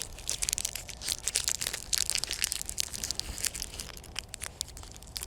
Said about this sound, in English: I start rattling chocolate wrappers